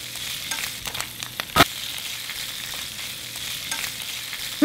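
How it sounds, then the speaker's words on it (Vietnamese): Bamboo shoots hit a hot pan of fried garlic and shallots and sizzle steadily as they are stirred, with a couple of sharp scrapes of the utensil. "Phi lên cho hành nó thơm và nó hơi vàng thì mình nhanh tay cho hết măng vào xào lên."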